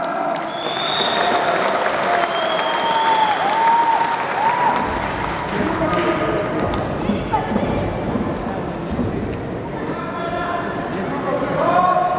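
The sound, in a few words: audience applause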